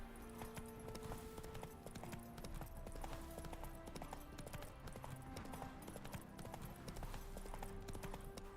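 Roach, the horse in The Witcher 3, trotting with a steady, rhythmic clip-clop of hooves. The hoofbeats are faint and sit under game music.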